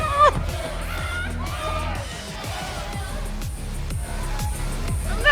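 Dense crowd at a thrash concert in the video game Life is Strange Double Exposure, a steady roar of cheering and whoops over pounding low music beats, with a loud burst at the start and end.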